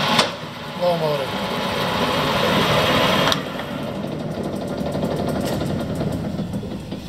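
A Warner & Swasey #3 ram type turret lathe motor runs at low speed with a steady mechanical hum and faint rhythmic clatter, while someone talks over it.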